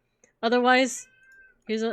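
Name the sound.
cat meowing in the background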